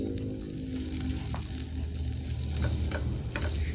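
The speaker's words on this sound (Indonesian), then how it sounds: "Setelah panas ini kita masukkan untuk bawang bombaynya. Kita masukkan semua. Kita tumis-tumis sampai bawang bombaynya harum" Onions sauté in a pan with a steady, close sizzle and light crackle, with soft scraping from stirring and no voices.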